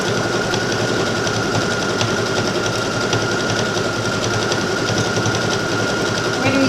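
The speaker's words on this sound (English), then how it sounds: "Embroidery stitches are great, but they take a little longer to sew." A sewing machine runs continuously while stitching embroidery stitches on a skirt, giving a fast, even mechanical whir and rapid ticking that stays close and fairly loud from start to finish.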